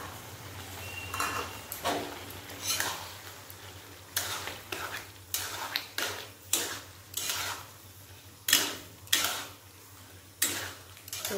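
Ground poppy seed paste being added to tender bottle gourd in a pan, heard as a series of irregular scraping and clinking strokes of a utensil against the pan, each short and fairly close, over a low steady hum.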